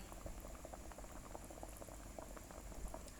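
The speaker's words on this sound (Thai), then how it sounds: "ต้มน้ำน้ำเดือดละ" Quiet, steady bubbling of water at a rolling boil in a pot for cooking chicken, a soft continuous gurgle with small pops and no voices.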